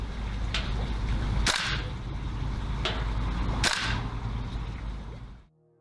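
A Tokyo Marui AKM gas blowback airsoft rifle fires four sharp cracking shots, two pairs of a lighter snap followed by a louder report, over steady outdoor background noise that cuts off at the end.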